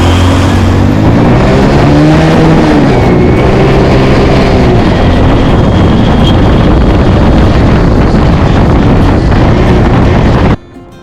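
A loud vehicle engine drones continuously while driving, its pitch rising and shifting, with heavy wind rumble, cutting off abruptly at the end.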